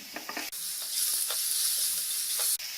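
Green chillies, black pepper and other spices sizzle in hot melted ghee in a pan for chilli lemon makhana: a close, steady frying hiss with a few crackling pops at the start and no talk.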